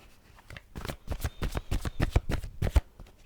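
Tarot cards being shuffled by hand, a close run of soft papery riffles and taps in an uneven rhythm, quiet and without talk.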